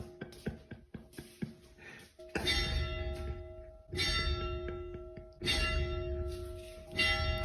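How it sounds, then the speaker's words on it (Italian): A church bell rings out in a town along the Cammino del Salento walking route, starting with several quick light strikes, then settling into loud, slow, resonant tolls that hang and decay between blows, with no voices. "E allora buongiornissimo, direttamente con la campana."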